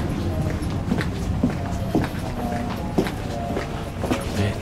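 A Kintetsu limited express train runs along the line, its wheels clicking over rail joints in a steady rhythm under a continuous low rumble, heard from on board at moderate volume.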